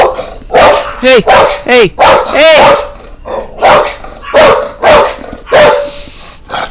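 Puppies barking in short, loud, high-pitched bursts close by, repeated in an uneven rhythm with a person calling out between them.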